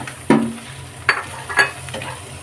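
Chopped tomato frying with fried egg, onion and chili in a pan: a low steady sizzle broken by three clear spatula scrapes and knocks against the pan.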